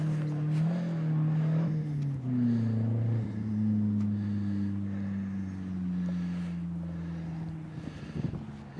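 A repaired car's engine idles steadily, then rises in pitch as it pulls away and drives off, loud and close with some wind buffeting over the microphone.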